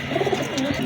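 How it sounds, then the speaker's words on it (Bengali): Young Kamagar pigeon chicks give soft, close cooing and low murmuring calls in a short burst, with several overlapping coos. "যে কবুতরগুলো দেখাইলাম তাদেরই বাচ্চা এখানে আছে।"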